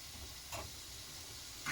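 Chicken with black pepper, seasoning and cooked rice frying together in a pan, giving a faint, steady sizzle with two brief louder hissing bursts.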